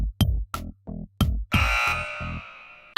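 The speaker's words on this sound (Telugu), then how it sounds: "మిస్టర్ ఊరు టీం సందీప్ వాళ్ళు బజర్ నొక్కారు" Game show buzzer on a Telugu TV quiz set, a series of short loud buzzing pulses followed by a longer sustained buzz, sharp and close with no talking.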